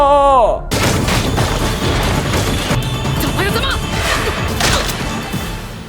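A demon's thrown ball strikes Yushiro's head and explodes in an anime fight, a dense run of crashing, gunfire-like impacts and whooshes following a brief voiced cry at the start.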